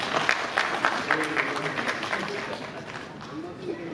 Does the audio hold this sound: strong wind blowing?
no